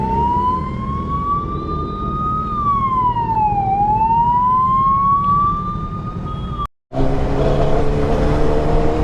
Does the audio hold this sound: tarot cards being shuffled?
no